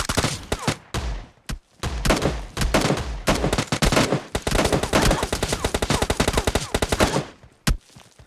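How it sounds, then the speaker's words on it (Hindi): Rapid bursts of video game gunfire, dense automatic fire with single shots mixed in, loud and continuous before stopping near the end. "मुझे तीनों तरफ से गोलियां पड़ रही थी"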